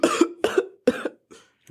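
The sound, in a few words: coughing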